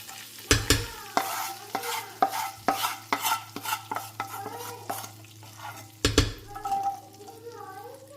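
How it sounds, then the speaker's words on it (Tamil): Cashew nuts fry in a pan for chakkara pongal, stirred with a run of sharp, rhythmic scraping taps over a soft sizzle, close and clear, with a brief pause before the stirring resumes. "முந்திரி பருப்பு நல்லா வதங்கட்டும்."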